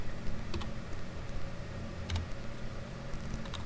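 Soft, quick keystrokes on a computer keyboard while filling in an Excel spreadsheet, a few short bursts of clicks close by in a quiet room.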